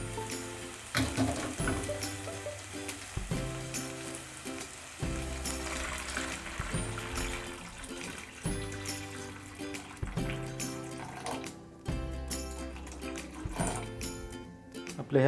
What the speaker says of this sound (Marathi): त्यानंतर यामध्ये आपण गरम केलेलं पाणी यामध्ये ओतूया.